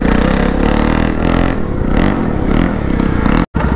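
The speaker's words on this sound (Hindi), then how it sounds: "अभी प्रथम जी बाइक करने वाले हैं स्टार्ट।" A motorcycle starting up, loud close engine clatter and revving with uneven surges, ending in a brief dropout near the end.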